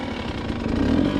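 A dirt bike engine in the Nevada backcountry near wild horses, a steady buzzing drone that swells slightly toward the end, close and continuous with no talk.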